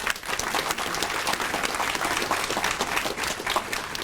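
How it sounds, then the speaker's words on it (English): A school graduation crowd applauds, with dense, sustained clapping from many hands at fairly close range and a steady level throughout. "A round of applause for those amazing people."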